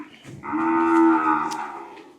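Red cattle at a weekly cow and buffalo livestock market in Wang Prachop, Tak, Thailand give a single long, loud low moo rising and fading over about two seconds, heard alone without talk.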